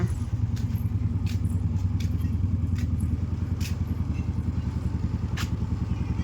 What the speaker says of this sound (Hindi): उधर निकल रहा है बाइक।